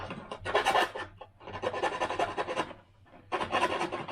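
A file rasps out a hole in a model aircraft part in three bursts of quick back-and-forth strokes, close and fairly quiet, separated by short pauses.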